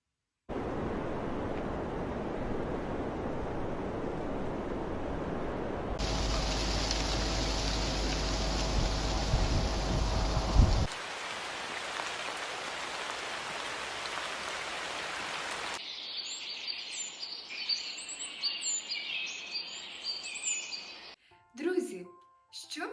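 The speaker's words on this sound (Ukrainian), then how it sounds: "вітер, дощ, шепіт листя, спів пташок" A sequence of nature sounds: gusting wind, steady rain, rustling leaves, then chirping birdsong, each section changing abruptly to the next.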